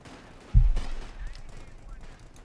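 Gunfire in the strategy game Company of Heroes 2 bursts out in one loud blast followed by a rumbling tail, with a match commentator's voice in the background.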